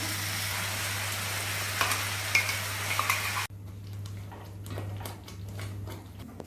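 Whole spices, cinnamon, cardamom, cloves, bay leaf and dried chilli, fry in oil with turmeric for shahi paneer masala, a steady loud sizzle that drops abruptly halfway, then softer sizzling with light stirring clinks and no talking.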